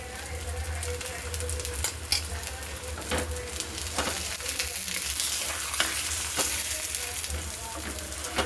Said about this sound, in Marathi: तर हे थालीपीठ आपण तव्यावर भाजून घेणार आहोत.